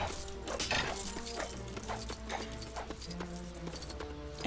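Donkey hooves clip-clop in steady rhythm through a LEGO Pirates of the Caribbean game scene, the hoofbeats sitting over continuous game music and ambient effects.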